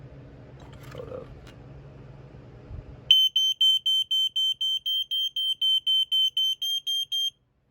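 A Black & Decker SMK300 smoke alarm is tested, sounding a loud, shrill beep repeated in rapid, steady pulses after a few seconds of faint room noise.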